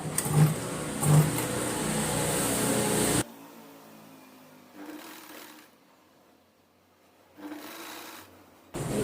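A sewing machine stitches fabric for a long frock, running loud and steady at first, then stopping; softer whirring and short bursts of machine noise follow in the quieter stretch, with no talking.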